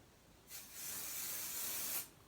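A steady hissing spray burst onto fabric, lasting about a second and a half, close and fairly soft, with quiet background before and after.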